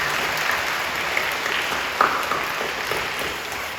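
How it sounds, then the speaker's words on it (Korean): A large congregation applauds steadily inside a Full Gospel church in Incheon. The clapping is an even, sustained wash of many hands with a few sharper claps standing out, and it is heard alone. "박수를 격려해 주시죠."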